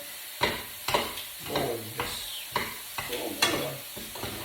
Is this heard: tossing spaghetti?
yes